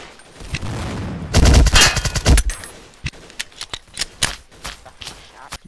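Gunfire in the game Blockade 3D: a rapid, loud automatic burst, then a string of separate, sharp single shots spaced unevenly until the end.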